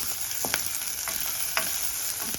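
Chopped garlic and onion sizzle in hot oil in a pan for banana-blossom sisig, a steady frying hiss with occasional scraping stir strokes, close and without talk.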